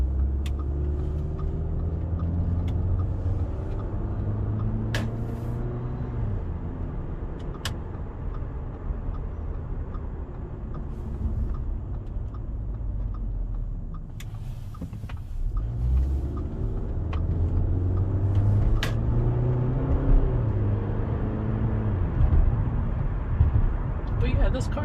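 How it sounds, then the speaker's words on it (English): Audi A4 2.0T cruising at light throttle, a steady low engine and road rumble with shifting engine tones and a brief dip, heard inside the cabin with someone talking over it throughout. "This car is pretty decent, just kind of cruising around like that, just very light throttle."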